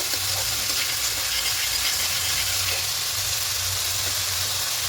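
Ginger, garlic and onion paste with green chili paste sautés in oil for a Bengali bhola fish curry, giving a steady bright sizzle with a low hum beneath, continuous and close.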